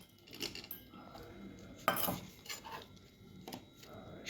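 Small cut watermelon pieces tumble into a glass with ice, making faint clinks and soft knocks, with a sharper clatter near the middle, all fairly quiet.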